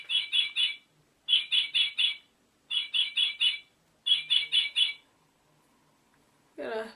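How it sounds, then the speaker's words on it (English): A loud gray crested bird gives shrill, piercing calls in four rapid bursts of about four notes each, followed by a short lower squawk, close and clear against a quiet background. "Whatever this is, the gray bird."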